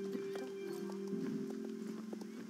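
A horse gallops in the online video game Star Stable Online, giving quick, regular hoofbeats throughout the short clip over a steady game music tone.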